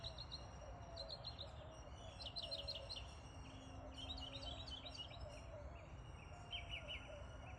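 Many birds sing and chirp outdoors in the morning, a dense chorus of bright repeated tweets over a steady low rumble of background noise.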